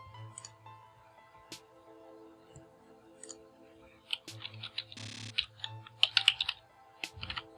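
Computer keyboard being typed into a web browser, a few scattered key clicks at first, then faster bursts of typing near the end over a low steady hum.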